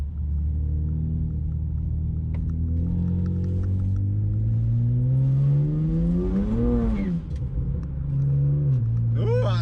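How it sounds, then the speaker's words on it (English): A car doing a burnout on a test run, its engine droning and rising in pitch as the tires spin hard, loud and close throughout with no talking. "I am spinning like crazy, guys. These tires are not gonna last very long."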